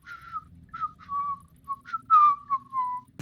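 A voice imitates a strange little whistling, a string of short, wavering whistled tones rising and sliding down, clear and close with brief pauses between them.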